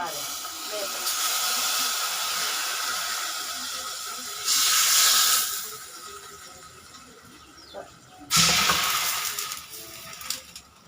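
Curry leaves, mustard seeds, chillies and fenugreek sizzle in hot oil with a loud, bright hiss that swells in bursts, then settles into steady crackling, close up.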